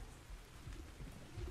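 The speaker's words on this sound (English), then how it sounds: "So, I'm sitting here burning up and it's raining as well." Steady rain in the survival game Ark Survival Ascended falls as a soft, even hiss with a low rumble, faint and continuous throughout, with no voices.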